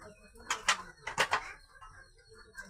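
A yellow-eyed male white high flyer pigeon gives a few soft coos close by in a home loft, in two short bursts with quiet gaps between.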